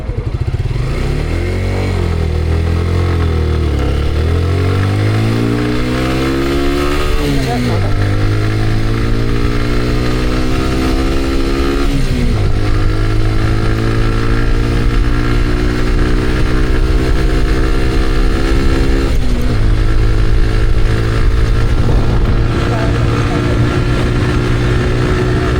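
A Suzuki Gixxer Monotone motorcycle carrying a 160 kg load accelerates hard, the loud engine drone climbing through several gears with audible shift drops, all of it under steady road and wind noise.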